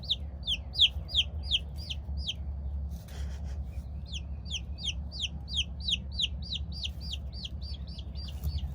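A days-old silver-laced Wyandotte chick peeps in rapid high repeated series, close and clear, pausing briefly before resuming over a low background rumble.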